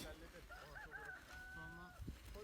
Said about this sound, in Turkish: Karşıda horoz ötüyor.